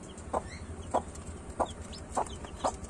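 A hen clucks five times in short, evenly spaced bursts over a quiet background, moderately close.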